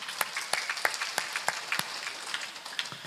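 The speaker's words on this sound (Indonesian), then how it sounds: "Tepuk tangan semuanya." Applause from a gathering in a mosque courtyard in Surabaya, scattered individual claps popping out sharply over a thinner bed of clapping, loud and close.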